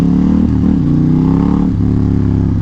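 A Ducati XDiavel motorcycle with a Termignoni exhaust throbs loud and close in a deep, steady rumble, its pitch dipping and shifting slightly as the engine runs.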